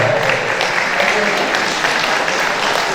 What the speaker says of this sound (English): Give Derry a big round of applause there.